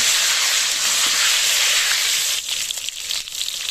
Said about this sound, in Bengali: এবার মাছ ভাজার তেলে দিয়ে দিলাম লম্বা লম্বা করে কাটা বেগুনগুলো বেগুনগুলো ভালো করে ভেজে নেব